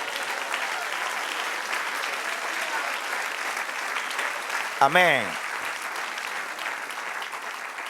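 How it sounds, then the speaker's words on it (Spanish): A church congregation gives sustained, even applause during a sermon, with a single voice briefly calling out over the clapping midway through. "Den un aplauso al Señor."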